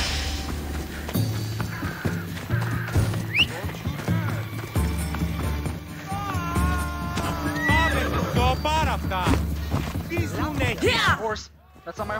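A horse whinnies several times amid Assassin's Creed Odyssey game sounds and hoofbeats, with someone talking over it.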